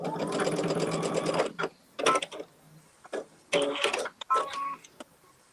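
Sewing machine re-stitching a quilt block seam, running in a long steady burst of rapid needle strokes, then several shorter start-stop runs, close and clear.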